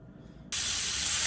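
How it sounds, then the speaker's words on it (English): Chorizo squeezed from its casing sizzles in a dry pan with no oil, a sudden loud, steady hiss that bursts in after a brief quiet moment and holds on. "Okay, so it's very sizzly."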